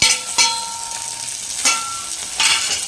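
Tomatoes sautéing with onion in a pan, a soft sizzle broken by three or four sharp spatula scrapes or clinks, close up and without speech.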